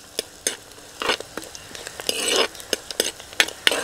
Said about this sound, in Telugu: ఇదంతా బాగా వేగే వరకు కలుపుకుందాం.